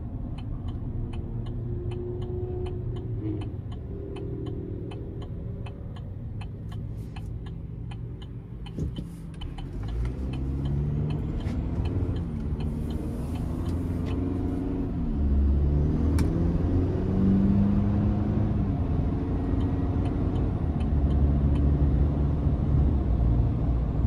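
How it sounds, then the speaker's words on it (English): A 2022 GMC Sierra 1500 Pro with a 2.7-liter turbo four-cylinder and eight-speed transmission accelerates from inside the cab, its low engine drone rising in pitch through several gears, with a faint ticking and steady road rumble. "I just love the blow off valve for the turbo engine here"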